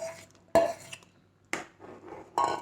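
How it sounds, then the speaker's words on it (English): Beaten curd is stirred into thick kalan gravy in a pot. Three separate clattering, scraping strokes of a spoon against the pot sound close by, with quiet gaps between them and no talk. "when we are putting the curd, we are going to continuously mix it"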